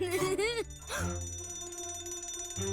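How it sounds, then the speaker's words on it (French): A cartoon fire alarm rings in sweeping, warbling electronic bursts, pausing briefly before sounding again, fairly close and clear. "Oh oh, l'alarme incendie."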